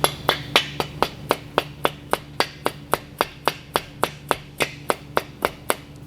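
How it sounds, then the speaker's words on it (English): Plastic mallet tapping an engine main bearing cap into place, roughly twenty sharp, evenly spaced taps in quick steady rhythm, close and moderately loud over a faint background hum, with no talk. "you can kind of tap it in with a plastic mallet. Give it a little pop, pop, pop, pop right there."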